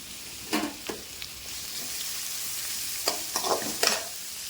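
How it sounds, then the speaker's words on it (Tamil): Chopped large onions being sautéed in a pan of oil for a raw mango curry, giving a steady soft sizzle with a few clear scrapes and stirs of the spoon. No one speaks. "கட் பண்ணி வச்சுருக்கிற பெரிய வெங்காயத்தை போடுறேன். போட்டு நல்லா வதக்குவோம்."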